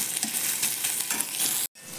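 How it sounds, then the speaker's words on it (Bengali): Steady crackling sizzle of onion, garlic and ginger frying in a hot pan, with occasional stirring scrapes, cutting off abruptly near the end. "পেঁয়াজ রসুনটাকে তোমার একদম ভাজা ভাজা হয়ে গেছে"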